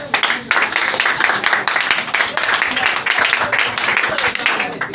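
A church congregation claps together in a quick, continuous patter, with a voice speaking loudly over the applause.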